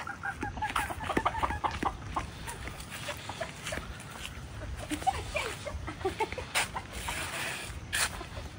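Chickens cluck in a garden by a newly built bamboo arch, with repeated short calls spread across the clip over a steady outdoor background. Bursts of activity come at moderate loudness, with no voices.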